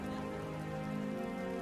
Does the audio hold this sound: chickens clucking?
no